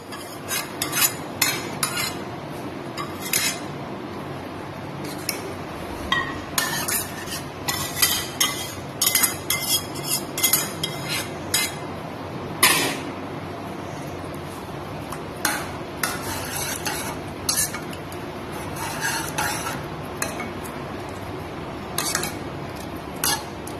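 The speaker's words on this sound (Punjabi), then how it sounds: "ਇਸ ਤੋਂ ਬਾਅਦ ਆਪਾਂ ਤੜਕੇ ਨੂੰ ਦਾਲ ਵਿੱਚ ਪਾਵਾਂਗੇ" A spoon stirs a pot of moong masoor dal after tempering is added. Metal clinks and scrapes come in irregular bursts over a soft steady background, close up, without speech.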